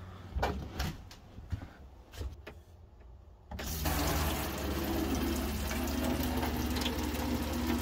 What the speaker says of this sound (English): So we'll just try the shower now.